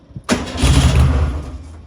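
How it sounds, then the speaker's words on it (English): A VW Super Beetle air-cooled engine fitted with 40 IDF carburetors cranks and fires up on a cold start with no choke, a sharp onset swelling into a loud, rough low rumble that slowly eases. "Cranking her over."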